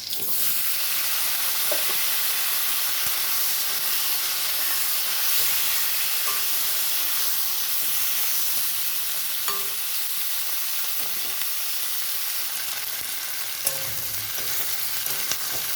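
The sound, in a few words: capsicum and onion frying in a pan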